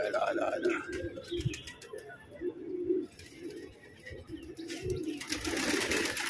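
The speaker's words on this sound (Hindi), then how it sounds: "कलसरा कबूतर है भैया" Pigeons caught on the day of Holi coo close by in repeated soft, throaty phrases, with a few chirps and someone talking over them.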